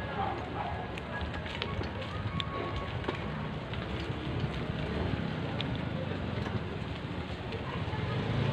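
Steady rain falls in a continuous dense hiss for several seconds, close and fairly loud, with no voices over it.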